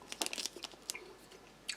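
Close, quiet chewing of firm peppermint-flavoured gum from a German army ration pack, with a series of soft, moist crunches and clicks at an irregular rhythm.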